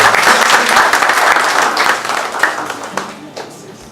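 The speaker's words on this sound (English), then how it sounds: "give a big hand to applaud this declaration." A large crowd at a public declaration ceremony applauds loudly in a dense, continuous wash of clapping that gradually tapers off toward the end.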